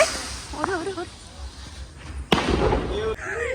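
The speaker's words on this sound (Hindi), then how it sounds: "हम लोग लगातार आतिशबाजी भी कर रहे हैं" Diwali fireworks and firecrackers go off outdoors, with a sharp loud bang, crackling bursts and a whistling rocket, while people talk and call out throughout.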